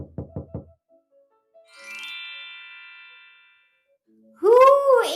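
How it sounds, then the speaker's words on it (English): Four quick, sharp knocks rap on a wooden door, followed by a bright chime that rings and slowly decays. A final ringing, tinkling flourish plays as a storybook sound effect, with no voices. "The wolf knocks on Grandmother's door."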